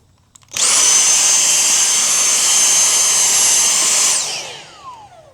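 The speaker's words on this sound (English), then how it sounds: "I clean the top of my tray with my shop vac." A shop vac sucks elderberry debris off a tray, switching on with a sharp start into a loud, steady high-pitched roar that carries on for several seconds and then winds down as it is turned off.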